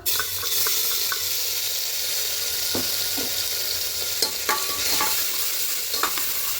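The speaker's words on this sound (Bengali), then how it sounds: "এবার এখানে কাঁচা লঙ্কা আদা পেস্টটা দিয়ে দেবো" Green chilli and ginger paste frying in a hot pan while being stirred, a loud, steady sizzle with scattered scraping and clicking stirs through the middle and end, no voices.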